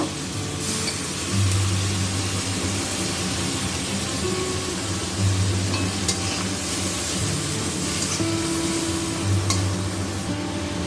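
Ground green chilli and cumin paste sizzles and fries steadily in a pan after a splash of water, with occasional stirring scrapes over a constant crackling hiss, close up and without speech.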